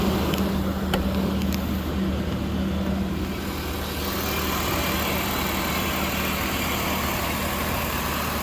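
A BMW E36 325is with its original iron-block M50 inline-six idles steadily in a barn-find setting, a continuous low engine drone with a faint hum, no voices over it.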